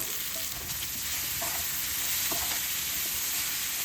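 Prawns with ground black pepper and a pinch of salt sizzle in a hot pan, a loud continuous hiss broken by a few quick stirring scrapes, with no voices.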